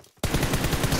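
A rapid burst of automatic gunfire in the mobile battle royale game PUBG Mobile: loud, close, rhythmic shots that start abruptly after a brief quiet moment and continue without a break.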